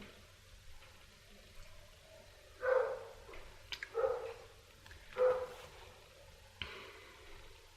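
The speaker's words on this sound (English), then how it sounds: "Dog barking, you hear him?" A dog barks a few times at a distance, the barks faint and spaced apart against a quiet room.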